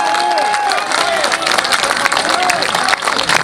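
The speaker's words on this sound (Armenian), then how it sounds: "Ուզում եմ ծափահարենք իրենց։" An audience breaks into dense, continuous applause that fills the whole stretch, with a voice carrying over the clapping.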